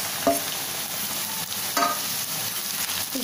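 Raw banana slices with turmeric stir-fried in a pan, a steady close sizzle of frying with a few brief louder scrapes and stirs of the spatula, no voices.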